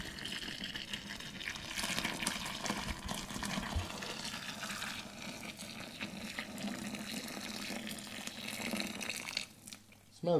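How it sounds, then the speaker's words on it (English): Boiling water from a kettle poured steadily into a vessel for making country wine, a continuous close splashing gush that runs for several seconds before stopping abruptly near the end. "Here comes the hot water."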